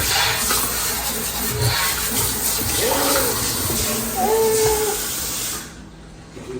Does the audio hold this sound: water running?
yes